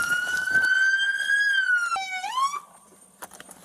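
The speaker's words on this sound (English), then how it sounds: "You probably heard the siren." A police siren wails with a steady high tone, then dips and sweeps back up before cutting off, loud and close, with a few clicks after.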